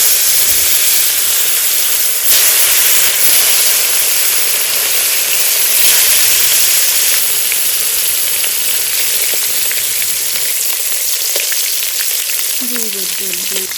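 Freshly caught koi fish hit hot mustard oil in a pan, setting off a loud, steady, hissing sizzle that fills the whole stretch close up, with faint stirring clinks near the end.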